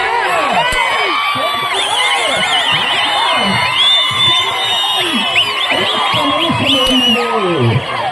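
A large crowd yells and cheers loudly and without a break at a village bull cart pulling race in Machapuram, with many overlapping shouts, whoops and high cries.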